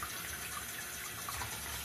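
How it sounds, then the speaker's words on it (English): Water runs steadily from a bathroom tap while warming up for a shave, a continuous hiss of flow at moderate level with no voices. "Let that water warm up a bit."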